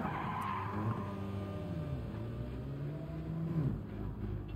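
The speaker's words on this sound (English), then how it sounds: "I gotta rip the e-brake to turn." A car skids after the e-brake is pulled in Gran Turismo 7, a sustained tire squeal with sliding engine drone running steadily for several seconds, close and fairly loud, no talking.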